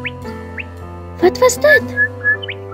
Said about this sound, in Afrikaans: sien die pragtige bokmakierie wat op 'n tak sit en vrolik fluit